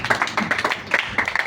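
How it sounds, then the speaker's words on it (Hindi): Clapping in a classroom-style recital after a Hindi poem about summer holidays: a short burst of quick, irregular hand claps from a small group, fairly close, with no speech over it. "अच्छी लगी हो तो ताली बजाई"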